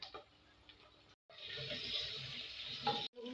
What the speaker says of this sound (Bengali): এবার ডিমগুলো ভালো করে একটু নাড়িয়ে নেব